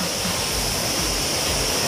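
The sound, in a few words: waterfall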